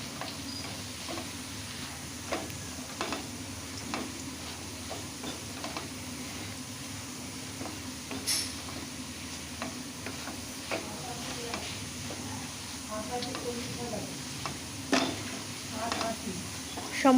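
Soya chunks cooked with spices and garam masala sizzle quietly and steadily in a pan, with repeated soft scrapes and clicks of a spoon stirring throughout.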